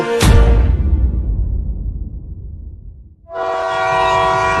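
A train slowing to a stop in a jungle: a loud, close rumble rolls on and gradually fades, then a long, steady horn blast sounds near the end.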